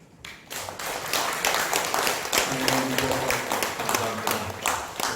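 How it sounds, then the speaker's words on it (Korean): A church congregation applauding during a Sunday service, sustained dense clapping from many people that starts abruptly and carries on evenly with a faint voice beneath. "큰 박수 한번 부탁드리겠습니다"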